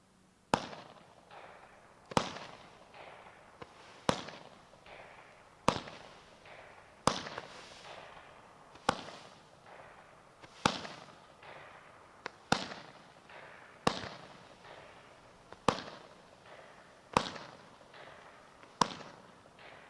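Fireworks cake, the Winda Chill Out quiet 18-shot finale repeater, fires a steady series of sharp, fairly soft pops about once a second, each with a short crackling tail, with no voices.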